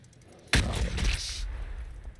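A grenade attack in the video game Warhammer 40K Battlesector bursts loudly with a sudden explosive blast, then a rumbling, crackling tail lasting about a second before fading into low background noise.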